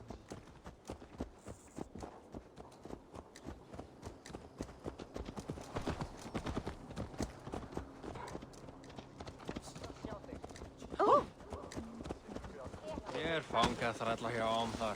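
Horse hooves clip-clop steadily at a walking pace in Assassin's Creed Valhalla, a continuous rhythmic clatter that picks up near the end, with faint background game ambience.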